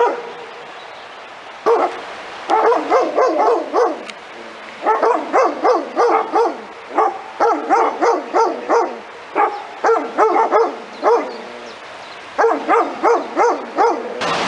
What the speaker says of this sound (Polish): Jeden jeszcze szczekał